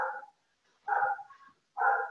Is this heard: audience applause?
no